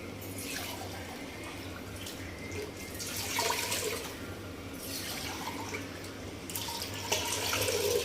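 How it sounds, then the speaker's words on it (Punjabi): Water is poured steadily into a pressure cooker, a continuous splashing gurgle that swells in a few surges, close by with no talking. "ਤੇ ਕੁੱਕਰ ਦੇ ਵਿੱਚ ਆਪਾਂ ਪਾ ਦਿੰਨੇ ਪਾਣੀ"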